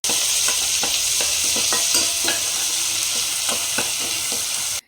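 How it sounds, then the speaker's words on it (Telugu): Spices with cumin, green chillies, curry leaves, ginger-garlic paste and turmeric are stirred in a hot pan for Kerala-style country chicken curry, a loud steady sizzle with repeated scraping strokes of the spoon close by. "వీటన్నిటిని బాగా కలుపుకోవాలి."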